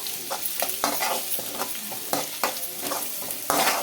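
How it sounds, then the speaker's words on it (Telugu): Chopped onions, green chillies and curry leaves fry in a pan for chicken majestic, giving a steady loud sizzle broken by repeated scraping stirs of a spatula, close and with no voice. "అలాగే కరివేపాకు అలాగే చిన్నగా తరిగిన ఆనియన్స్ ఇవి బాగా ఫ్రై కావాలండి"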